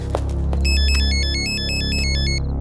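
A phone ringtone plays in a Telugu action movie scene, a bright repeating electronic melody that rings loudly for about two seconds over a low rumbling background score.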